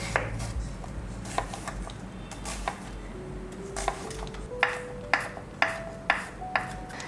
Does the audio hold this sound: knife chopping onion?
yes